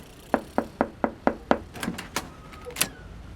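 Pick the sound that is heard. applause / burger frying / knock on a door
knock on a door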